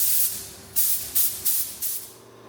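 A spray gun spraying primer on a boat hisses in four short bursts, each about a third of a second, close and loud against a quiet background hum.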